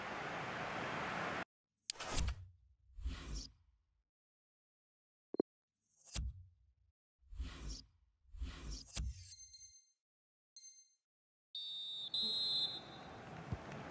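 A referee's whistle sounds at half-time in the FIFA 22 video game, a few sharp tonal blasts set among bursts of crowd noise separated by silences.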